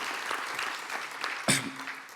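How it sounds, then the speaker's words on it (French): Conference audience applauding a speaker after a talk on African soft power, a short spell of moderately faint, steady clapping with a sharper burst near the middle. "Vous pouvez chaleureusement l'applaudir."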